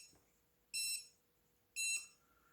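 Remote control of a Boatman Actor MK4i baitboat beeping while pairing: two loud, sharp electronic beeps about a second apart, each lasting roughly a third of a second, in a quiet room.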